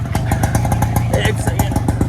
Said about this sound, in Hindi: ये गाड़ी आ गई है, बाइक आ गई है